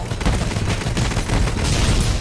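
A stationary heavy gun in a World War I video game fires in rapid, continuous bursts, loud and close, with overlapping gunfire and booming blasts filling the whole stretch.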